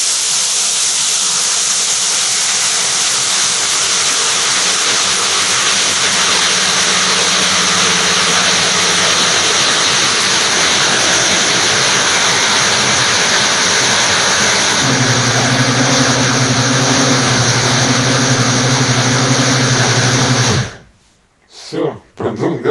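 Biolomix T5200 blender motor running at just over half power, a loud, close, continuous high-pitched whir and hiss that holds steady for about twenty seconds before cutting off abruptly, with no talk over it.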